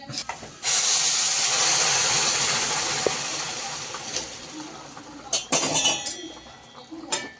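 Boiled water poured into a hot pan of roasted barnyard millet (bhagar) sets off a loud, steady sizzling hiss that slowly fades over several seconds, followed by a few light clinks.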